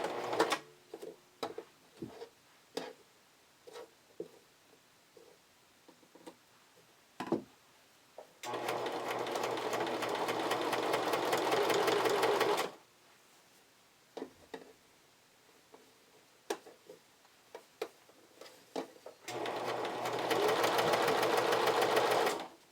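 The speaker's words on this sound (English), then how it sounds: "I'm going to run it through my sewing machine" Sewing machine stitching a camisole, two sustained runs of fast, loud whirring several seconds long, separated by quieter stretches of scattered clicks and handling taps as the fabric is adjusted.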